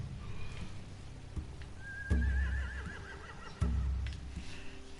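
Horses whinny in The Walking Dead video game, final season, one long wavering neigh standing out over stomping hooves and a low ambient rumble, with a couple of sharp thuds breaking through.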